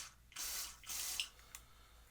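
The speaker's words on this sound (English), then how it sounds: "we can spray that in" Contact cleaner sprayed into a Switch 2 Joy-Con analog stick, two short hissing bursts followed by faint ticks, close and quiet with no talk.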